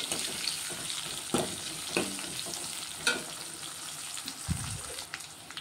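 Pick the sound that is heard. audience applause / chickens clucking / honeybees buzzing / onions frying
onions frying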